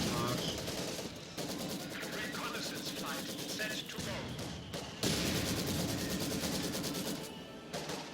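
Gunfire crackles in a Company of Heroes 2 2v2 battle on the snowy Semoisky map, with dense rattling bursts and shots under overlapping game noise.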